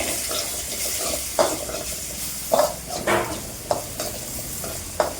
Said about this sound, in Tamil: அப்புறம் அந்த புளியை எடுத்து போட்டுடுறோம்.